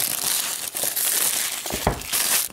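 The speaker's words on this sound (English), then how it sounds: "Peel the plastic here." Plastic wrap crinkling and crackling as it is peeled off an Apple iPad mini box, a dense continuous rustle close up with a few sharper crackles, no talking.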